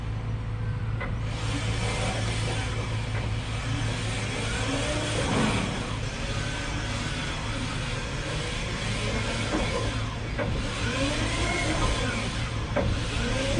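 A Porsche EV conversion drives along, heard from inside the cabin as a steady, even drone with a faint electric motor whine and no engine beat.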